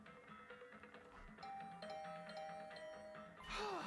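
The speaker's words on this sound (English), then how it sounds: "I was brought back to the land of the living by the unrelenting ringing of my doorbell" An electronic doorbell in the game Hundred Line: Last Defense Academy chimes in a string of short tonal dings over soft background music, then a brighter burst of sound cuts in at the end.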